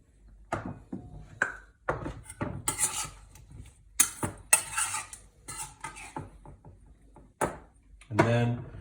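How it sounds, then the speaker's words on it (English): Cooked rice, simmered about 20 minutes, is scooped generously into a bowl with a spoon, giving a few close clinks and scrapes against the dish among faint rustles, while someone talks over it. "Just take a nice, generous scoop of the rice into the bowl like that."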